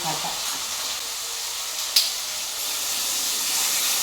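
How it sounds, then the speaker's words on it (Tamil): Curry leaf kuzhambu ingredients frying in oil, a steady close sizzle and hiss that runs evenly throughout with one brief louder crackle partway through. "எல்லாம் எண்ணெயிலே வேகுது"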